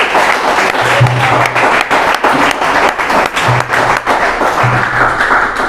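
A church congregation applauds during a Sunday service, with steady, moderately loud clapping from many hands and a faint low hum underneath, continuing for several seconds without speech.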